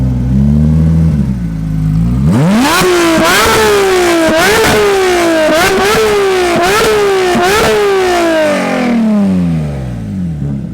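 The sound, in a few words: modified Porsche 992 GT3 engine revving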